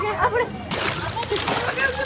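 Water splashes and sloshes around a floating ride at a large water theme park while people talk over the rushing water throughout.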